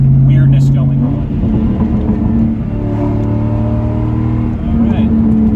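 A 4-valve car engine revs loudly up close, pitch climbing and dropping through gear changes in a steady drone, with a voice talking over it.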